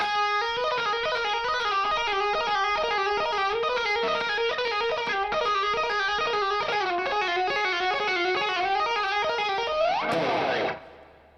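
A fast, continuous run of electric guitar notes streams steadily up and down for about ten seconds, then ends with a swooping slide and quick fade.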